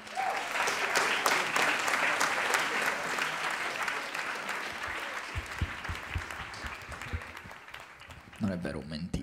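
A stand-up comedy audience applauds steadily in a dense wash of clapping and crowd noise, loud and sustained before thinning out near the end, where a voice briefly comes through.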